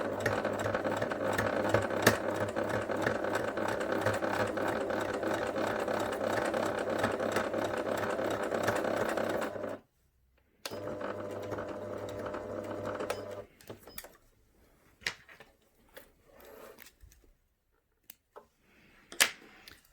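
A sewing machine runs on a long stitch length along the ear seam of a fabric memory bear, whirring steadily and close for about ten seconds, then again in a shorter burst, followed by scattered light clicks and taps.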